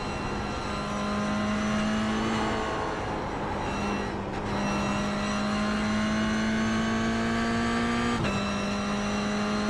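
Race car engine roaring steadily at high revs around Tsukuba Circuit in a GR Cup racing video game, a sustained loud whine with brief dips and shifts near the middle and end, no talk.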